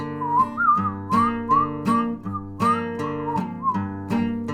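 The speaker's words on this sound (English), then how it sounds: "then you got the whistling." A person whistles a song melody as part of an acoustic guitar cover of The Dead South's "In Hell I'll Be In Good Company", with clear rising and falling phrases in steady rhythm over strummed guitar chords, no talking.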